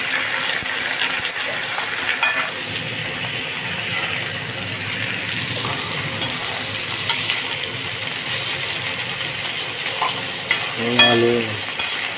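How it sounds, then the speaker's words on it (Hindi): Potato pieces fry in hot oil with a steady, close sizzle that runs the full length, with occasional stirring scrapes and a louder clatter near the end. "आलू थोड़े फ्राई हो रहे हैं, अभी थोड़े से और थोड़े"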